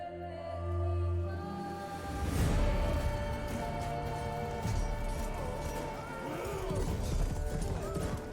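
Horse hooves clip-clop and a horse whinnies in The Witcher 3 video game, the hoofbeats steady and mid-distance, with a neigh rising near the end amid in-game ambience.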